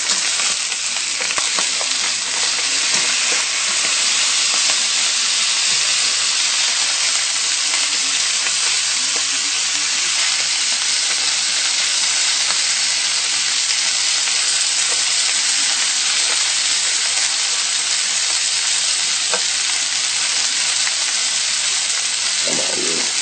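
Food browning in a hot pan gives off a steady, loud, continuous sizzle and frying hiss with occasional small pops, unbroken for the whole stretch.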